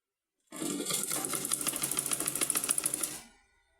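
A sewing machine stitches elastic onto folded fabric, a close, steady rapid-fire rattle of needle strokes running for nearly three seconds before winding down.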